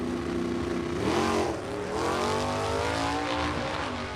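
A Chevrolet Nova drag race car launches off the line in a wheelie at test and tune, its engine roaring loudly and climbing in pitch through rapid gear changes as it pulls away.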